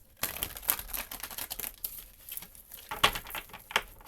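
Tarot or oracle cards are shuffled by hand up close, making a run of quick papery riffles and crisp snaps with no talking.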